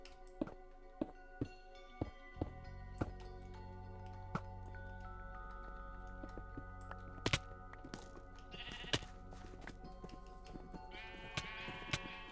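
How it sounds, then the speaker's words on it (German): Sheep bleat in a Minecraft Bedwars match, several short bleats standing out over a steady game backdrop with repeated thuds, clicks and tonal effects. "Schafe sind immer noch extrem gut."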